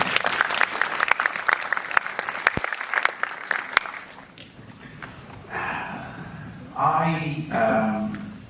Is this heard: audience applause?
yes